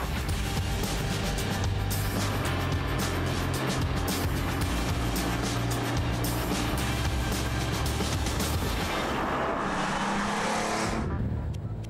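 A classic Porsche 911 Turbo roars continuously at high revs, loud and close, with dense engine and wind noise throughout before easing off near the end.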